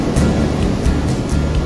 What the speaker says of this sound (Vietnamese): Sóng ầm ầm luôn, úi giời.